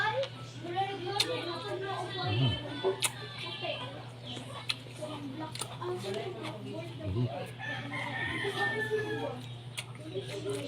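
Chickens in a backyard clucking and calling intermittently, with a rooster's crow rising at times, moderately close, under a person speaking throughout and a steady low hum.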